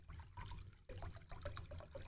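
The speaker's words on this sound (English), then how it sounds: "pouring water from a 2-liter bottle into an aptly sized bowl" Water pours from a 2-liter bottle into a bowl in a quiet, faint, continuous trickling splash that breaks briefly before resuming for a couple of seconds.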